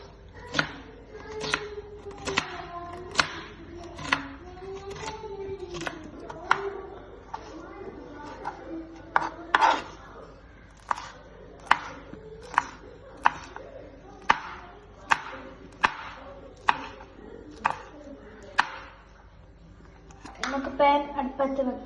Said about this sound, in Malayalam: നമുക്ക് ഉള്ളി അരിഞ്ഞെടുക്കാം